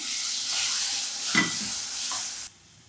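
Water is added to sizzling masala with tomatoes for a mogri sabzi, and the pan gives a loud, steady hiss with a stirring thump midway, then the sound drops away abruptly near the end.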